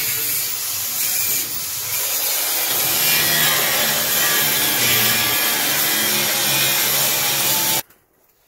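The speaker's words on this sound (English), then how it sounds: "Get the button for your angle grinder." An angle grinder grinds continuously up close, a loud and harsh sustained roar that stays steady for several seconds and then cuts off abruptly, with no talking over it.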